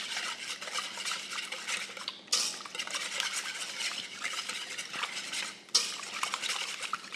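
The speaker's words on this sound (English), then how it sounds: "I'm gonna add some garlic powder and salt. We're gonna whisk that together." Garlic powder and salt whisked together in a bowl, a continuous brisk scraping rattle of whisk against the sides with two sharp knocks, close and alone.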